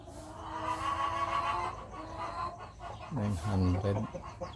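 A Brahma hen clucks close by, low throaty clucks that swell near the end, with some background noise.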